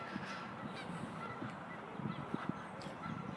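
Many geese honk repeatedly at a distance, overlapping calls over a steady wash of outdoor background noise.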